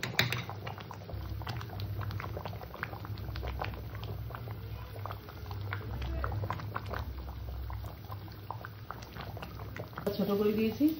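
Dalia khichuri with ghee, fried cashews, raisins and almonds bubbling in a pot, a continuous dense patter of small pops with low rumble beneath, and a brief clatter near the end.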